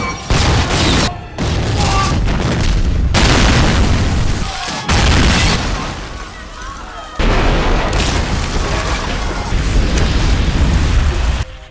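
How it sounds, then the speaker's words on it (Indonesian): Bomb explosions: heavy, booming blasts rumble one after another under loud, dramatic music, with deep low-end surges and short gaps of quiet between them. "bom itu meledak sampai meruntuhkan seluruh desa."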